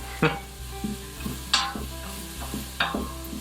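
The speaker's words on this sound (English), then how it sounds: "we're just gonna saute this for a couple minutes just to kind of get that caramelization and the translucency of the onions" Onions sauté in an Instant Pot with a soft steady sizzle, broken by repeated scraping strokes of a spoon at a regular pace, close and moderately quiet, with no talking.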